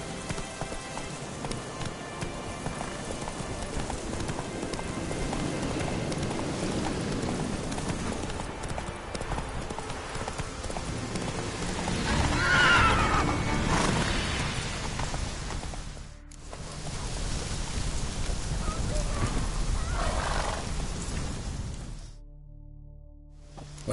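Horse hooves galloping in The Witcher 3 on PS4, a loud continuous clip-clop drumming under game ambience with a brief whinny, the hoofbeats easing and then stopping near the end.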